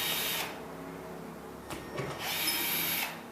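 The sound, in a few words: removing old screws from drywall ceiling with power drill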